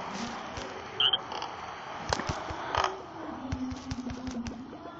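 The Jungle Frog character in the Crossy Road video game croaks in a series of short bursts amid game effects and rhythmic clicks, moderately loud and close.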